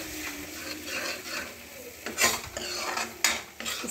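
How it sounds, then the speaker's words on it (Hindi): Raw milk being stirred into a sizzling egg curry masala gravy in a pan, with scraping and clinking of a spoon against the pan over a steady frying sizzle. "ये थोड़ा सा मैंने कच्चा दूध डाल दिया, मैं इसे थोड़ा स्टर करूँगी।"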